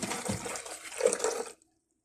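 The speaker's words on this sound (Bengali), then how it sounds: "এই যে পানি দিয়ে দিলাম আমি।" Water pours steadily into a pot for moringa leaf tea for about a second and a half, then stops abruptly, leaving silence.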